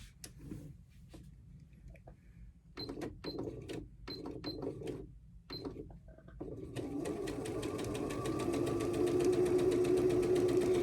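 Several short, clicking stops and starts give way to a sewing machine stitching a quilt block in a sustained run, its rapid mechanical whir building steadily and staying close for the last few seconds.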